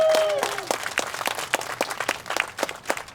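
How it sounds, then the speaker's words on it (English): Crowd applause breaks out at a no-hate walk rally, a scattered outdoor patter of many hands with individual claps standing out, while a brief tonal sound fades early on. "Give yourselves a big round of applause."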